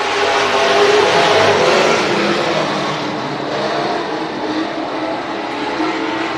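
Race cars roar around the Hibbing Speedway track, a dense, loud, continuous engine din with broadband roar and crowd-like wash, steady throughout with no break.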